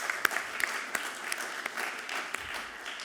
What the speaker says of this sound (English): Let's have applause for you.